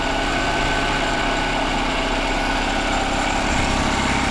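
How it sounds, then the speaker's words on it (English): A small used outboard boat motor with a new spark plug idles too high, giving a continuous buzzing, close-up engine drone that stays even from start to finish with no talking. "with that new plug, it's sounding a lot better, but now it's idling too high"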